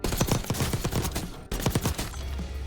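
Rapid bursts of gunfire from a Call of Duty Black Ops 3 match, a quick series of sharp repeated shots with a short pause midway, moderately loud with no speech.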